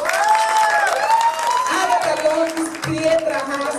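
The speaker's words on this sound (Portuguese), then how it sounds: "quero pedir um aplauso de vocês pra todo o elenco dessa noite" Audience applause and cheering for the cast of a drag show special night at Planet G, a dense, sustained crowd clapping that blends with music and an amplified voice throughout.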